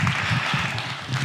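Audience applause welcoming a guest speaker at a church Sunday morning service, a short burst of steady, dense clapping filling the room.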